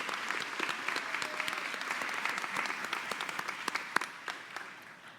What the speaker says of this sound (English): Let's have a round of applause for all of our MSN graduates and postmaster certificate